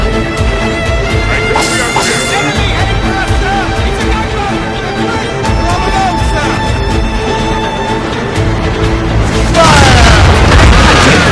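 Ship cannons fire during a naval battle in Assassin's Creed Rogue, heard as loud booming blasts, the heaviest near the end, under continuous sea and battle noise and shouted voices.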